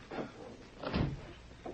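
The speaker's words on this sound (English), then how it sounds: "Close that door." A door bumps shut around the middle of a short radio-drama scene, with a softer knock and shuffle before it and a faint thud after, all close and fairly quiet.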